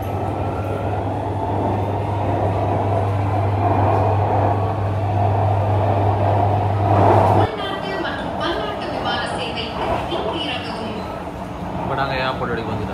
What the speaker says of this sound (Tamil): இப்போ நாங்கள் மெட்ரோவில் ஏறிட்டோம்.